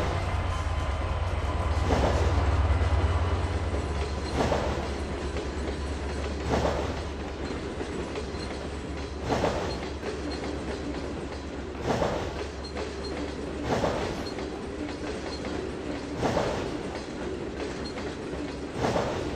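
A long freight train in the Trainz 2022 video game rolls past steadily, its wheels clacking in regular bursts every couple of seconds over a continuous low rumble.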